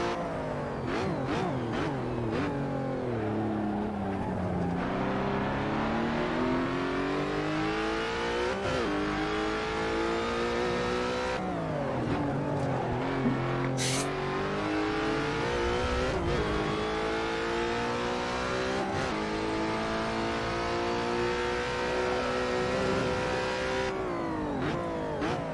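A Peugeot 407 WTCC touring car in a sim racing game holds full throttle, its engine note climbing steadily through the gears with brief dips at each shift, loud, continuous and with no talk over it.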